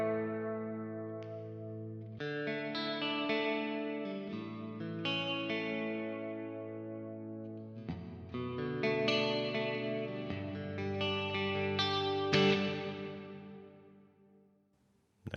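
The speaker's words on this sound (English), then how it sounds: "Made kind of a washy reverb." Electric guitar played through a Kemper Stage profiler with a washy, wide reverb: chords and single notes ring out in phrases, each blooming into a long shimmering decay, with no talking.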